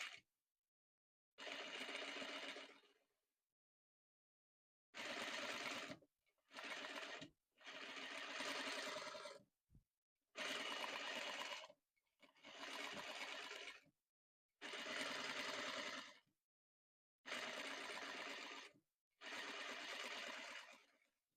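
A sewing machine stitches a boubou garment along a half-inch seam allowance, running in about eight bursts of a few seconds each, with short silent pauses between them and no talking.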